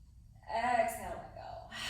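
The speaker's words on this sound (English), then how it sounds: "Open mouth, exhale." Open-mouthed exhale during a yoga breathing exercise: a single close, breathy, partly voiced release lasting about a second, followed by a softer tail of breath.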